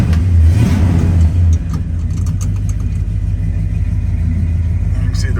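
The engine of a 1968 Chevrolet El Camino, parked with the parking brake set, turns over and catches, then settles into a steady, loud, rumbling idle.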